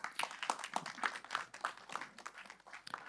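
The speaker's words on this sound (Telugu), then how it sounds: "please give him a big hand of applause" Scattered hand clapping from an audience at a movie trailer launch event, a brief quick patter of claps that rises and fades, fairly faint and distant across the hall.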